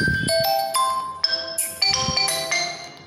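A Redmi 10S Prime phone plays a bright electronic ringtone, a quick ascending and descending melody of chiming tones, clear and close, with no voices.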